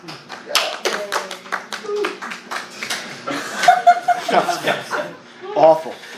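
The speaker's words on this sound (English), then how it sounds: "Awful cheering for a very good joke." Students in a philosophy lecture hall clap and chuckle after a joke, with uneven bursts of hand claps, laughter and scattered voices rising and falling.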